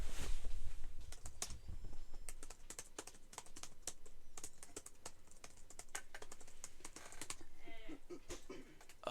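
Typing on a computer keyboard while setting up Linux on a Raspberry Pi 5, close, quiet clusters of rapid key clicks with brief pauses between bursts.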